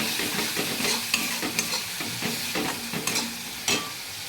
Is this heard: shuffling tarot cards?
no